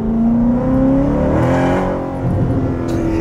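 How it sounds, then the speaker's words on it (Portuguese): A car engine accelerates up close from inside the cabin, a loud continuous revving drone with a pitch that climbs and dips across a few seconds, no talking. "Ele fica acelerando, me jogando pra trás do banco."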